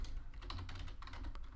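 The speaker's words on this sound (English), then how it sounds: "I will type it out right now." Steady rapid keystrokes on a computer keyboard while entering a Roblox username, close and clear over a low background hum, with no talking.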